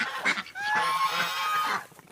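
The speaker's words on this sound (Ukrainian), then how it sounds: "це мій старий гусак і ось ця, здається, гусочка стара" Geese on a Ukrainian homestead, an old gander and an old goose, give short honking calls near at hand in a brief burst.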